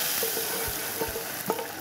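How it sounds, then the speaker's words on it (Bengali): Hot bagar tempering poured into beef chana dal sets off a steady, close hissing sizzle, with a few small pops and spatters. "আমরা এখন বাগারটা ঢেলে দিচ্ছি"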